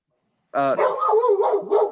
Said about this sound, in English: My dogs are, they're having fun.